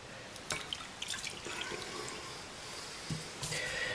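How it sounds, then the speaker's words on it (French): Hot water poured into a dish holding a spoonful of sugar while making homemade bread dough, heard as a faint trickle with a few soft splashes and drips against quiet room noise. "rajouter une tasse d'eau plus chaude que tiède"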